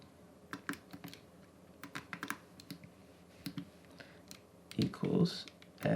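Keystrokes on a computer keyboard or calculator as an equation is typed in, a quick series of light, close clicks in uneven bursts with a denser flurry near the end, over a quiet room background.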